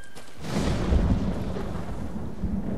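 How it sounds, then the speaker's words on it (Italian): A thunderstorm in the video game Ghost of Tsushima, where a deep rolling rumble of thunder swells in and holds over a steady hiss of rain, loud and unaccompanied by speech. "Ma sta arrivando un bel temporale"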